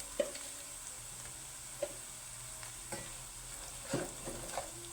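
Onion frying in oil with salt, a soft continuous sizzle with a few distinct clacks and scrapes of a spoon stirring the pan.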